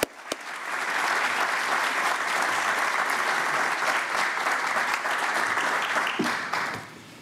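Audience at a Heinz College professorship celebration applauding to welcome Provost Garrett, a steady, full wash of clapping from a sizable room that builds quickly, holds for several seconds and tapers off at the end.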